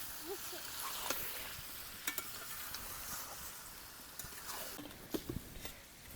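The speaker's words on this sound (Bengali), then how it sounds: "মাংসগুলোকে ভালোভাবে কষিয়ে নেব।" Marinated country chicken pieces sautéed in a pan, a quiet frying sizzle with intermittent stirring clicks and scrapes of the spoon against the pan.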